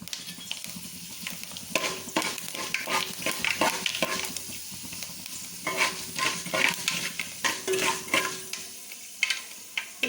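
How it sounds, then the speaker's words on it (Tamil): Fenugreek seeds fry and sizzle in hot oil while tempering a fish curry, with a steady crackle broken by louder bursts of spattering and stirring up close. "இப்போ குழம்ப தாளித்து விட்ருவோம்."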